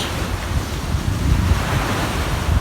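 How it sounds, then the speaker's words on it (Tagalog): Ocean waves crash and wash steadily on the beach at Discovery Bay, Hong Kong, a continuous roar of surf at high tide with wind buffeting the microphone. "naririnig nyo na yung hampas ng dagat"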